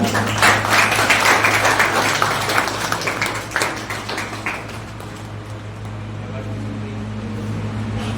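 Audience applause at a welcome ceremony at a police recruitment coaching institute in Udaipur, a dense steady patter of many hands that is loud at first, then thins and fades under a low constant hum.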